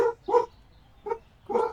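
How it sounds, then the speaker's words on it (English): A dog barks four times in the Supermarket Simulator video game, short moderate barks in two pairs with a pause between, clear against a quiet backdrop. "Dog is barking."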